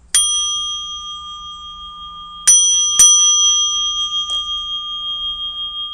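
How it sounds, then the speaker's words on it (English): A small bell is struck three times, each bright metallic ding ringing on with a clear sustained tone and slowly fading overtones, with a faint extra tap near the end. "You hit a bell, and it"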